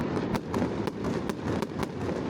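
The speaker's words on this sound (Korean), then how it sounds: "이 폭죽을 바로 눈앞에서 보니까 어마어마한 폭죽 소리와 울림 때문에 체감되는 크기는 훨씬 더 컸던 것 같아요" Fireworks exploding at a Sydney display, a run of sharp booms and crackles roughly every half second over a continuous rumbling wash of noise, loud and close.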